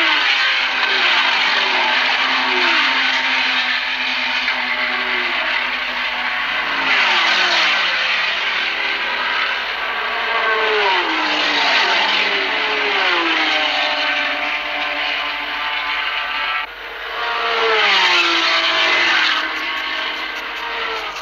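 Ferrari race cars at the 1964 Le Mans 24 Hours roar past one after another, their engines rising and falling in pitch as they sweep by, loud and continuous from start to finish.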